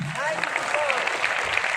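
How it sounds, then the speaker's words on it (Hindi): Audience applause at a business meeting: a fairly quiet, steady patter of clapping runs throughout, with a voice speaking over it. "थैंक यू, जोरदार तालियां दोस्तों।"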